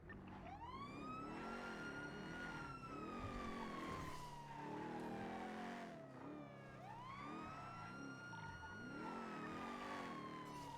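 A video game police car siren wails loudly and continuously, its pitch sweeping down slowly then jumping back up, with an engine rumbling underneath.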